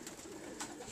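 Performance pigeons coo softly at the end of the young bird season, a brief murmuring call set within a dense, noisy loft background.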